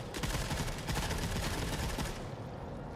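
Shotgun fire in the video game The Forever Winter, a dense burst of loud overlapping blasts for about two seconds that then cuts off into quieter game noise.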